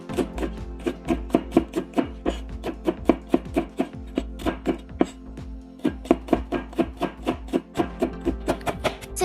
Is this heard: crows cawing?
no